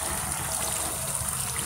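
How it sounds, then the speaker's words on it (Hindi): About half a cup of water streams steadily into a cooking pot of lauki and chicken. It makes a continuous, close trickling rush with no voices. "अभी हम इसमें 1/2 cup वाटर डालेंगे"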